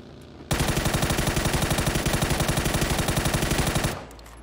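Sustained automatic gunfire in the PUBG console battle royale game, a loud rapid rhythmic burst of shots lasting about three and a half seconds, heard alone without talk.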